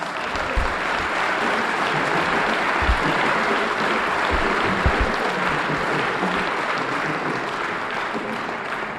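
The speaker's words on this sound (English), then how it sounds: "Give them a round of applause." Sustained applause from a debate audience in Harlem, a dense wash of clapping that fills the whole stretch at steady loudness, with a few sharper low thumps and faint voices mixed in.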